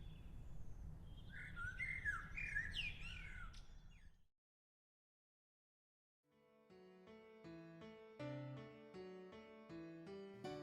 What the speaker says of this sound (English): We sit in silence for a while, listening to the sounds of the birds.